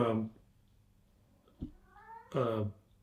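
A cat meows twice, once at the start and again near the end, with a soft thump and quiet room noise in between.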